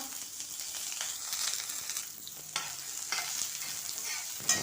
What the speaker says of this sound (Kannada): ಒಂದು ಬಾಣಲೆ ತಗೊಂಡು ಈರುಳ್ಳಿ ಹಾಕಿದ್ದೀನಿ, ಬ್ಯಾಡಗಿ ಮೆಣಸಿನ್ಕಾಯಿ ಹಾಕಿ ಫ್ರೈ ಮಾಡ್ತಾಯಿದ್ದೀನಿ